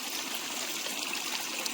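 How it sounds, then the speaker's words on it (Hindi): Pure spring water from the forest above flows in a steady, close hiss and trickle, an even broadband rush with no pauses and no voices. "ऊपर जंगल से निकलता हुआ ये शुद्ध जल"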